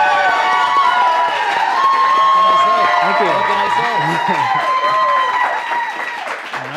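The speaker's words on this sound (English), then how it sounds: "And now I hear what all the wooing was about." A studio audience at a live talk-show taping cheers and woos loudly and continuously, a broad crowd roar with someone speaking over it throughout.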